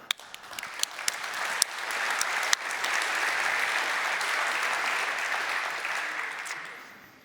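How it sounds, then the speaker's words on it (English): At a Checkmk conference, an audience bursts into applause that swells to a dense, sustained roar of clapping, then slowly thins toward the end, with a few sharp individual claps standing out at the start. "And final clap for Andreas, because he provided that to us."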